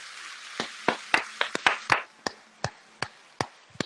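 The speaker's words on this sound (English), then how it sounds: "I had to give a loud hand of applause, man." Sharp hand claps ring out one at a time in an uneven rhythm, about a dozen crisp slaps close by with brief silences between them and no voices.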